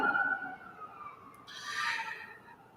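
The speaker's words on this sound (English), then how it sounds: "And that siren you hear," An ambulance siren sounds in the distance, a steady wailing tone that swells in the second half and stays faint and far off, with no talk over it.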